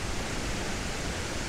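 A waterfall seen from a viewpoint in Ecuador gives a dense, steady, broadband roar with no pauses, heard close and alone.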